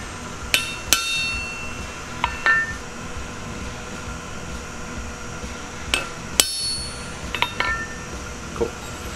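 A hammer taps a small chisel to mark a cut line on metal, giving sharp, isolated metallic clinks spaced irregularly with a few quick double strikes, close and clear over a quiet room background.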